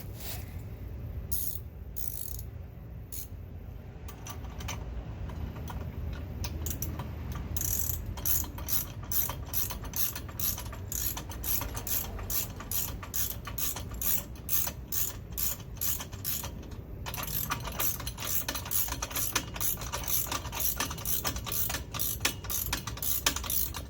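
A 14 mm ratcheting wrench tightening a bunk guide bolt on a boat trailer, with rapid clicking pawl ratchet strokes in close bursts that speed into a dense steady run of clicks.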